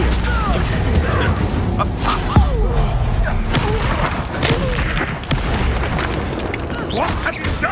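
Confringo fire-blast spell cast in Hogwarts Legacy, with booming bursts and a sharp thump standing out from dense, continuous game combat noise.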